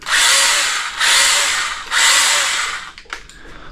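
A cordless power pruning saw for cutting high branches whirs loudly in three close bursts of about a second each, then winds down, with a couple of faint clicks and a soft motor tail.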